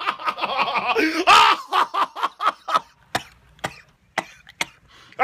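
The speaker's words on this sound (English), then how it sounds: "I should see a doctor about my cough." A man coughs and sputters in a rough fit, a dense burst of hacking followed by a string of sharp isolated coughs that thin out.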